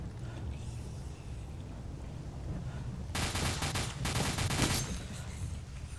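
Automatic gunfire in the video game S.T.A.L.K.E.R. Misery: two rapid bursts, each about a second long, loud over a low ambient rumble, with no talk.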